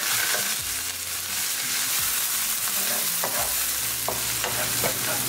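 Ginger, garlic and green chili fry with cumin seed and bay leaves in two tablespoons of olive oil in a pan, giving a loud, steady sizzle with occasional stirring scrapes and no talk.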